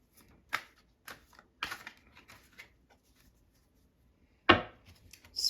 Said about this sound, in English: I shouldn't have shuffled that